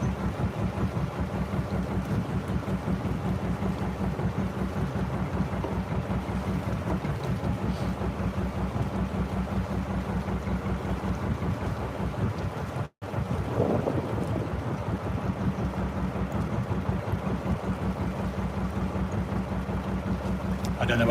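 A narrowboat engine drones steadily on a canal beside the M6 motorway, with water rushing and gusting wind buffeting the microphone, interrupted by one brief dropout.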